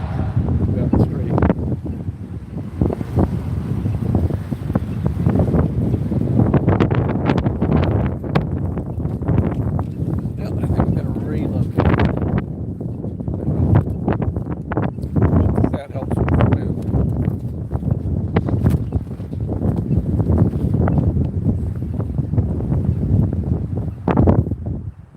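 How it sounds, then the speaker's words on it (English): Wind blows down a city street beside a building on a fall evening, making loud continuous rumbling buffets against the microphone that surge and ease, with someone talking over it. "Now that seems to have helped with the wind."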